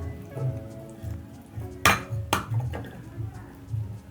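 Eggs cracked into carrot cake batter in a kitchen, two sharp clinks against a bowl standing out over a low murmuring voice and soft background clatter.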